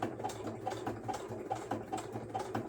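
A sewing machine top-stitches around a fabric collage envelope in a steady, rapid mechanical chatter, with evenly spaced stitch pulses and a low motor hum running continuously close by.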